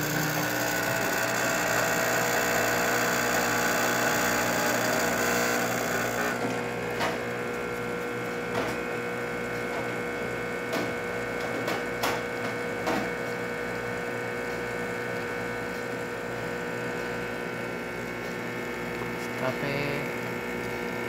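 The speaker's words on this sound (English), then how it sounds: "nice espresso shot coming out of the machine" An Andreja Premium espresso machine pulls a shot, its steady pump hum continuing throughout with faint mechanical clicks and ticks layered over it, close and alone without talk.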